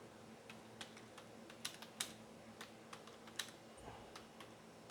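Typing a sentence on a computer keyboard: light, irregular key taps and clicks, close but quiet, with no talk over them.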